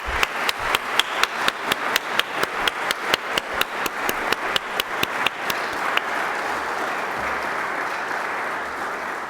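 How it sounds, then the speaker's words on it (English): Rhythmic unison clapping from an audience at an animal war-and-peace medal ceremony, sharp evenly spaced claps for several seconds, then dissolving into a continuous wash of ordinary applause. "Can we give a round of applause to these wonderful heroes,"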